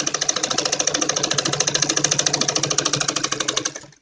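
Domestic sewing machine stitching the hem of a Patiala salwar made of net cloth, running as a steady rapid mechanical clatter of evenly spaced needle strokes for several seconds before slowing and stopping.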